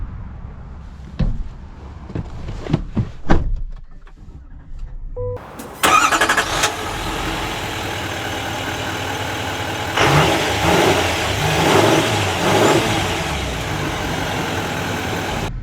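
A 2025 Chevy Silverado ZR2 Bison diesel truck cranks and fires up, settles into a steady rumbling idle, then revs and accelerates in loud, sustained surges.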